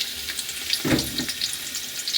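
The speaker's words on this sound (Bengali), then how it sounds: "এখন আমি এই যে পেঁয়াজটা ভাজি নিচ্ছি" Onions frying in a pan produce a brief, close sizzle with a soft crackle and a single stir or scrape midway.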